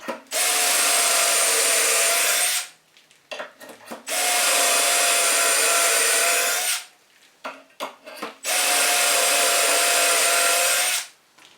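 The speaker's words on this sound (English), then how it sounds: "So let me drill these 3 holes first." A power drill bores dowel holes into wood using a DowelMax jig in three long bursts, each a few seconds, separated by short pauses with clicks and handling noises.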